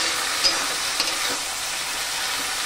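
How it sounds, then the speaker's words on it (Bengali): Fish fries in a pan with onion, green chilli, salt and turmeric, a loud steady close sizzle with a couple of light utensil taps, no voices. "একটু ভেজে নিতে হবে"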